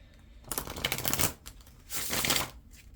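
Oracle cards shuffled by hand during a tarot reading, two long papery riffling bursts separated by a short pause, close and fairly quiet with no talking.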